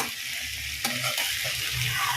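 Chopped vegetables and capsicum sizzle and fry in a pan, with the steady hiss of hot oil and scraping stir strokes of a spatula cutting through now and then.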